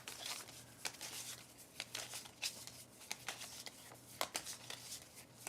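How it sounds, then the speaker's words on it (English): Body cards for a tabletop card game being shuffled by hand, a steady run of soft riffling and crisp flicks close by, with a low hum underneath and no talking. "So we'll shuffle these up."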